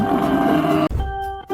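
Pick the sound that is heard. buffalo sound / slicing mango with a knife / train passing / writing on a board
buffalo sound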